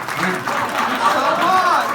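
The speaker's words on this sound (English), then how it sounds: "So let's give him a round of applause" An audience at a comedy release show claps in a dense, steady wash of applause, with a few voices and a chuckle mixed in.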